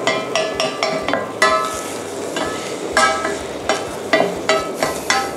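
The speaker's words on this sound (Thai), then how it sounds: "ตอนนี้ผมก็จะผัดให้มัน" Spinach stir-fried in a pan with garlic, metal utensil clinks and scrapes knocking against the pan in an uneven rhythm over a steady low sizzle, close and fairly loud, with no voices.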